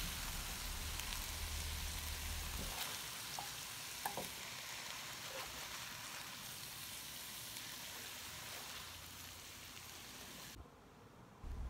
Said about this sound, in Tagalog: Start na po tayong mag-stir fry ng ating sliced beef.